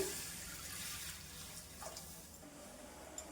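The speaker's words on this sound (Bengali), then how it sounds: "আগে থেকে কড়া বসিয়ে দিয়েছি, দিয়ে দেবো জল।" Water pours into a wok set out for making potato and chana dal pakoras, a steady, soft rushing wash of liquid lasting the whole moment, fairly faint and heard without any voices.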